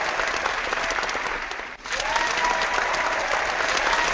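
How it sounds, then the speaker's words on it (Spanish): Sustained audience applause at a book launch event fills the room, a steady wash of many clapping hands with a brief dip midway before swelling back. "Así que este aplauso va por vosotros."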